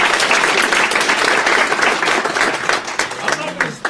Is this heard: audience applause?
yes